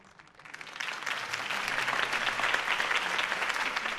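A video game crowd at a political campaign speech bursts into applause that swells within the first second and keeps going as steady, dense clapping.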